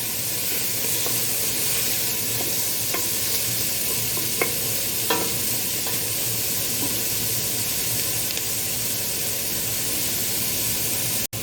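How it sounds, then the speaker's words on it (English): Food frying in a pan for lasagne, a steady loud sizzle and hiss with occasional scrapes and taps of a utensil as it is stirred, no voices. "Going to let those cook for a couple of minutes, stirring occasionally."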